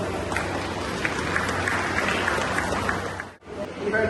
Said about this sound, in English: So please give them a big applause.